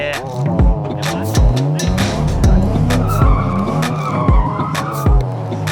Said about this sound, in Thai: ต่อไปก็คือจะเป็นเลข8นะครับผมในการโดนัท2วง